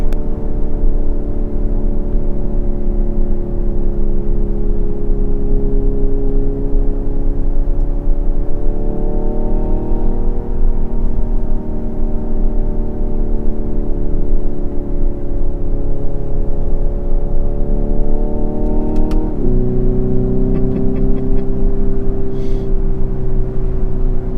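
Hyundai Ioniq 5 N accelerating, a loud sustained electric whir with rising and falling tones heard from inside the car, shifting pitch partway through and then settling, no one speaking.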